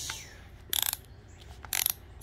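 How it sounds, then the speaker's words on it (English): A ratchet removes the intake bolts on a 2014 Dodge Ram 2500 with a 6.4 Hemi engine. It makes two short, close bursts of rapid clicking with quiet pauses between them. "You take all your intake bolts out."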